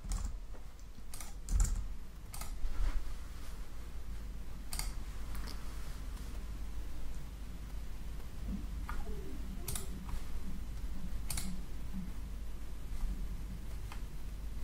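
Card details typed on a computer keyboard, quiet scattered key clicks in short bursts with pauses between them, close and faint over a low steady hum.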